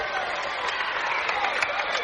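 Basketball fans cheer in an arena during an overtime state tournament game as a dense, continuous crowd roar with scattered claps and shouts, fairly loud and close.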